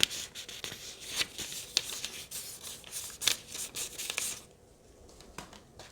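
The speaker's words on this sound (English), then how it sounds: "Here's the sound of the Hobonichi paper." Pen scratching across Hobonichi planner paper in quick, uneven strokes, close and fairly loud, then trailing off into near silence for the last second.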